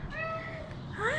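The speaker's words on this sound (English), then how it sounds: "Yes, pretty kitty." A cat meows twice close by, a drawn-out call followed by a rising one. Quiet background noise from a delivery ride-along sits beneath the calls, with no talk over them.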